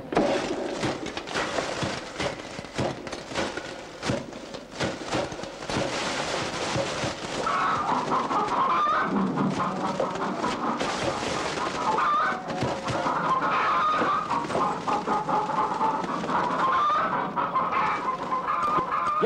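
Chickens clucking and squawking loudly in a farmyard, agitated bursts of fowl calls with flapping and scuffling throughout, growing busier and more frantic in the second half.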